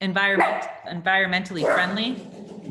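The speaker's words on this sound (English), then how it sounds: "Sorry, that's my dog." A pet dog barks and yelps repeatedly nearby in quick bursts, mixed with a person talking over it.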